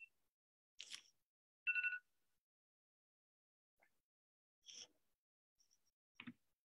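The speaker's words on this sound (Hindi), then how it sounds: "कहीं आपकी तरफ से तो फोन नहीं आ रहा है" A telephone rings in short separate bursts: an electronic trill, then a few faint chirps and clicks spread across a quiet lecture-hall pause with no talking.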